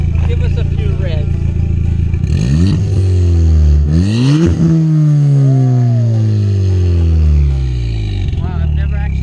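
A stage-tuned Ford ST with an upgraded exhaust is started and revved several times, loud and close, with sharp rising and falling engine pitch over a steady idle while people talk nearby.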